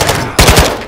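Loud, close automatic gunfire in Call of Duty Modern Warfare II's DMZ mode, a quick burst of several rapid shots cracking one after another, after a lower rumble of game ambience, with no talking.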